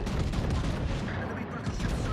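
Naval guns fire in a World of Warships sea battle: a dense, continuous barrage of booming shots and blasts that stays loud and steady throughout, with no clear pauses.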